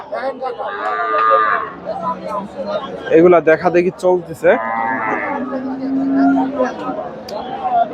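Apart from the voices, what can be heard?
cattle mooing at a cow market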